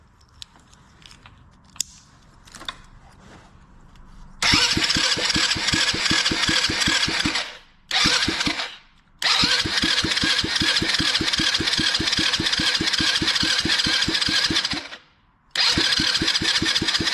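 An old quad's engine starts after quiet rattles and fires into a loud, rapid, rough chugging idle, cutting out briefly twice before catching again.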